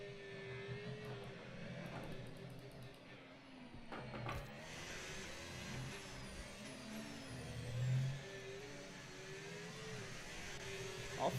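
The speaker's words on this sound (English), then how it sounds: "As usual, the car sound was a little too higher." Formula 1 car engine in the F1 25 racing game at the Singapore circuit, a continuous high whining drone with shifting pitch, gear-change blips and a steady moderate level throughout.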